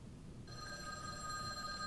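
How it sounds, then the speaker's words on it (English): A telephone rings in a visual novel game, a steady electronic trill of several stacked tones starting partway in and holding to the end over a low background murmur. "And the phone rang."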